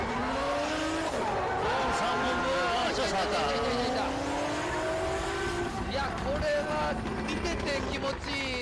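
A Toyota GR86 with a 2JZ engine drifts at the D1 Grand Prix at Tsukuba circuit, its engine revving up and down with rising and falling pitch and tires squealing, loud and close, under continuous commentary.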